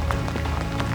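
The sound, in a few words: rain falling in the New Zealand Alps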